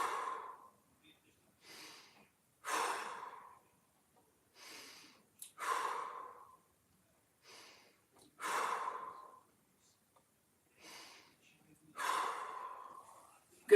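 Slow, deep breaths during a seated side-bend mobility stretch, about ten audible inhales and exhales spaced evenly with near silence between, close and fairly soft.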